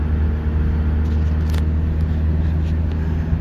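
A two-stroke car engine cruising in overdrive at about 2,000 RPM and roughly 30 mph, giving a steady, close low rumble with a constant hum and no breaks.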